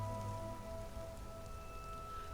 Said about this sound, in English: only the soft drizzle tapping against the empty asphalt